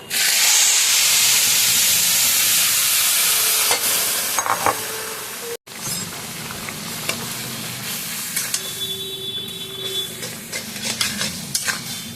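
Lentils tipped into a pan with pumpkin greens and whole cumin, a loud hissing sizzle at first that settles into quieter crackling, with spoon scrapes and stirring knocks throughout.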